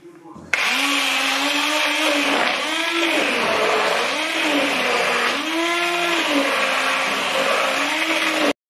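A blender grinds blanched, sun-dried almonds with a loud, steady motor whine that rises and falls in pitch in repeated waves as the load shifts, running continuously for about eight seconds after a brief quieter start.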